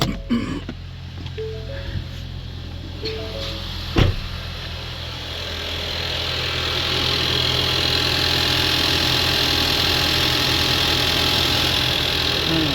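A Ford Explorer engine idles steadily with a low, constant drone, the hum thickening slightly partway through, with faint clicks early on and no talking.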